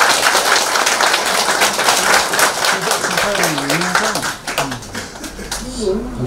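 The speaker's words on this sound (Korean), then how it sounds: "인사학과 김윤세 회장님 큰 박수로 모시겠습니다" An audience applauds to welcome a chairman at a gathering in Ulsan. Dense, steady clapping fills the room, and a voice speaks over it toward the end.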